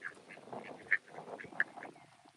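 Ducks gathered nervously near a feeding spot give a run of scattered quacks at close to middle distance, with two sharper, louder calls standing out among softer ones and no talking.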